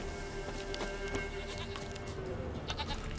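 A goat bleats in the video game The Witcher 3: Wild Hunt, short wavering cries over a busy backdrop of hoof clip-clops and ambient game noise, moderately faint.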